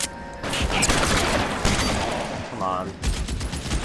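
Dense, sustained gunfire rattles through a shootout in L.A. Noire's arson case, loud and continuous, with a voice speaking briefly over the shots.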